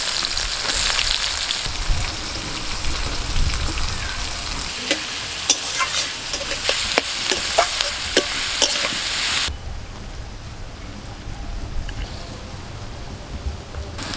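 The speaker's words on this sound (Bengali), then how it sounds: "এবার দিয়ে দিচ্ছি পেঁয়াজ কুচি।" Chopped onion hits hot oil with whole garam masala, cardamom, cloves and cinnamon while cooking mutton, giving a loud continuous sizzle with scraping spoon strokes before dropping to a softer frying hiss.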